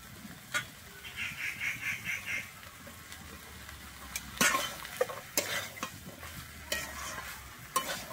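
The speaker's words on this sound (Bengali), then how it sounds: "এই মটরটা দিয়ে কিন্তু চর্বির সঙ্গে ভালোভাবে কষিয়ে নেব।" Boiled yellow peas and potato stir-fried in mutton fat, a low steady sizzle broken by repeated sharp scrapes and clacks of a spatula against the pan, plus a short fluttering squeak early on, quiet and without talk.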